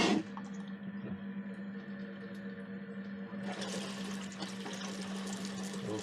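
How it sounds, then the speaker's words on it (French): A caravan's water system fills, a pump humming steadily under flowing water that grows louder and more rushing partway through, close and without speech. "Et on va le remplir d'eau également."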